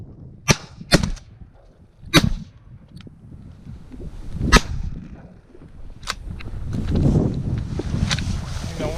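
Shotgun blasts fired at teal ducks during a rainy early-season public-land duck hunt in Nebraska: several sharp, loud reports spaced irregularly across the clip, with rain and wind noise and a boat or water in the background.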